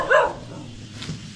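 Dogs barking near a campsite on a Kumara Parvata mountain trek, one loud close bark followed by quieter yips and whimpers in the background.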